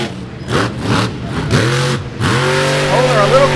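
A race vehicle at the Indy 4-Wheel Jamboree Nationals in Indianapolis roars past with its engine revving hard and shifting pitch. An announcer talks over the loud, close engine noise throughout.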